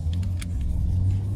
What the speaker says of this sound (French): le beau-père il a démarré le tracteur. Tu entends la mécanique là?